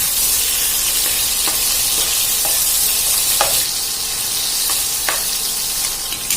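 Chili and dried shrimp fry in hot oil, giving a steady, close, broadband sizzle with a few sharper pops and crackles scattered throughout, with no voices.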